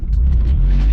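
A turbocharged 8th-generation Honda Civic engine pulls under acceleration with a deep, close rumble, loud and brief, with no talk.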